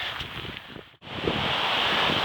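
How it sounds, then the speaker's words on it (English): Strong wind buffets the microphone on a beach at high tide, mixed with a steady roar of breaking waves, dropping out for a split second before surging back loud and close. "it's quite windy and the waves are quite noisy"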